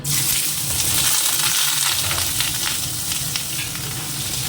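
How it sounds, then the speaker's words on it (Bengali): Potato pieces fry in hot oil in a wok, giving a loud, steady sizzle with a bright hiss that runs unbroken from start to finish, close to the pan, with no talking. "কড়াইতে তেল দিয়ে দিচ্ছি আজকে আবার টিফিনে করে নেবো চাও এই যে আলুটা দিয়ে"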